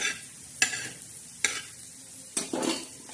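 Whole spices dry-roasting in a pan, stirred with a utensil that gives three sharp scraping clinks spaced about a second apart over a faint, low background, close and quiet with no talk.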